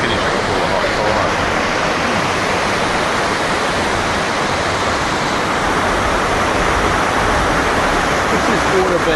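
Water flows steadily, a loud, constant, close rushing wash that fills the whole stretch without a break.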